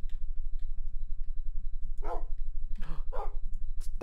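Dog barking in Minecraft, a few short game-sound barks in a burst around the middle, each fairly clear over a steady low background hum.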